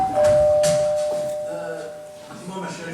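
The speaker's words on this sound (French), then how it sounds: "On avait une sonnette." A home doorbell gives a loud, close ding-dong chime that rings out and fades slowly over a few seconds, while people talk at the same time.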